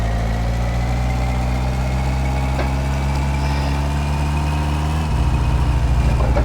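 A car engine in My Summer Car idles and lugs at low RPM, a loud, steady low rumble heard up close, its pitch shifting slightly near the end, with no talk.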